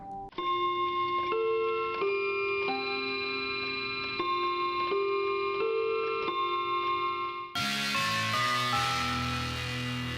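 A pendulum clock chime rings out a slow sequence of clear, sustained bell tones like a school bell, one after another, followed by a louder cluster of struck notes near the end.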